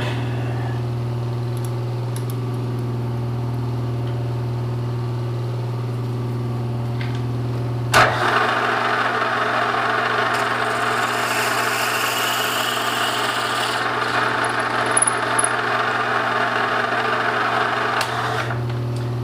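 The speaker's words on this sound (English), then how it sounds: "I'll move up to the next size drill bit." A Bridgeport milling machine hums steadily, then spins up into a louder whirring grind as the drill bit cuts, holding at a constant pitch to the end.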